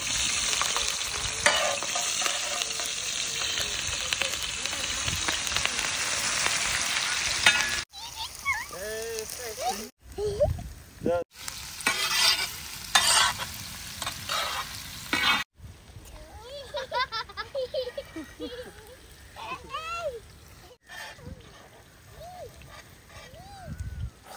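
Onions, chillies and tempering spices sizzle loudly in hot oil on a tawa for chicken fry, with a steady hiss, scraping stirs in bursts, and a person talking throughout.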